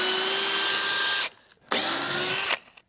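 A power drill backs out screws in two close, loud bursts of high whine, each about a second long, with a short pause between.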